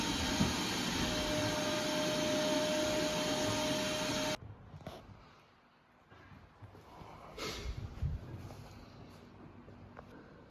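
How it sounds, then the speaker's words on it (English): A drill on slow speed turns a part of a Freedom 5.3 LS engine being built for a 1970 Camaro RS/SS, a close, steady whirring hum that cuts off sharply, followed by quieter handling noises and bumps. "I just put my drill on slow speed"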